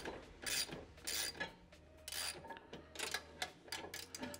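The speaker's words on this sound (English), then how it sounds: "I'm just gonna tighten this down lightly." A 12mm nut on a Toyota Tacoma lower bumper light bracket is tightened, giving quiet, rapid ratchet clicks in short bursts close by.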